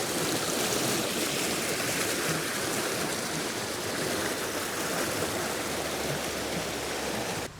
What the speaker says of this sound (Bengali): সেই রাস্তা দিয়ে তোমরা এগিয়ে আসলেই পৌঁছে যাবে এই দুয়ারসিনী ঝর্ণাতে